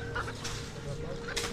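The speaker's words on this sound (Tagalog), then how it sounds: "Aba, paano na naman nakapasok tong manok na ito?" A chicken that has wandered indoors on a property gives a few soft clucks close by, short and faint against a quiet background.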